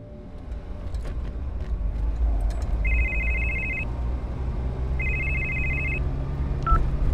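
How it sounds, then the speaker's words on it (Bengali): A telephone rings in a horror-suspense audio drama: two separate electronic ring bursts, each about a second long, sound clearly over a low rumbling background, followed by a short click-like tone, with no one speaking. "হারান ফোনটা তুলল"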